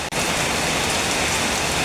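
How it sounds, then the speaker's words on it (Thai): Steady rain falls in a dense, even hiss of drops on surfaces, close and loud, with no voices. "ฝนมันตกเนาะ"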